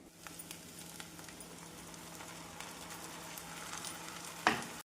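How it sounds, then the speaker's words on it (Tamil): Faint steady sizzling of onion and tomato sautéing in a pan, a soft continuous hiss with a brief clatter of stirring near the end. "வெங்காயம் தக்காளி சேர்த்து நன்றாக வதக்க வேண்டும்"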